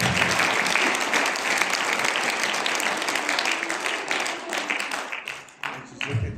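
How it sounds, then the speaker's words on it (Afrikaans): An audience claps its hands in loud, dense applause that holds steady, then thins and tapers off toward the end. "Kom ons gee hande klap."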